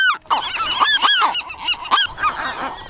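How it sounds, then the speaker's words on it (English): Loud, close gull calls at a crowded seabird breeding colony on an island in Channel Islands National Park in May, with overlapping harsh honking cries in quick bursts and no voices. "So many seagulls."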